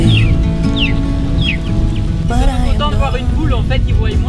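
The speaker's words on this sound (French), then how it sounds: "ils voient moins souvent des poules que des tortues, donc ils sont plus impressionnés par la poule" Chickens cluck and call in repeated short bursts amid steady outdoor background noise, with people talking over them throughout.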